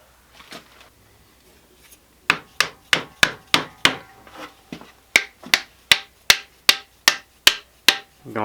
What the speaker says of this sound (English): I'm gonna glue my wedge in real quick